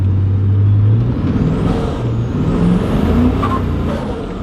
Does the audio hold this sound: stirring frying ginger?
no